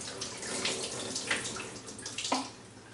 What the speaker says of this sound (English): These faucets have a lot of pressure, so be kind of slow about starting the water flowing.